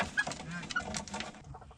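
Chickens cluck inside a chicken coop in the evening: several short, irregular clucks and murmurs from nearby birds, moderately loud, with no talking.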